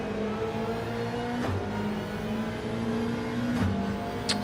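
A race car engine drones steadily while lapping Spa in Gran Turismo 7, short-shifting to save fuel, with brief dips at each gear change and no talk over it.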